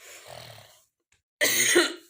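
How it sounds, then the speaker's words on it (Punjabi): Two bursts of coughing separated by a brief silence, the second louder and harsher, close to the listener with no talking. "ਵਿੱਚ ਵਿੱਚ ਖਾਂਸੀ ਮੈਨੂੰ ਹਜੇ ਵੀ ਆਉਂਦੀ ਆ"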